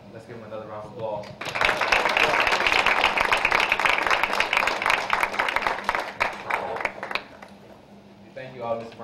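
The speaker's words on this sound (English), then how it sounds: "Let's give him another round of applause." Audience applause, a burst of clapping that swells after a brief spoken line, holds steady for several seconds and then fades as a speaker resumes talking.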